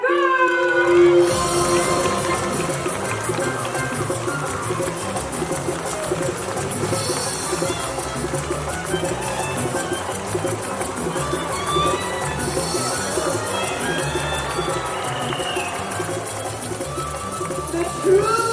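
Audience at a Jurong Bird Park bird show in Singapore cheers and shouts on a bird race, a continuous crowd roar under a commentator's voice that runs throughout.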